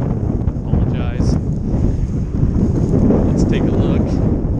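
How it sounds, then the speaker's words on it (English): Strong wind at a gravel pit buffets the microphone with a heavy, continuous low roar and gusty rumble, steady and loud throughout the clip. "Super windy."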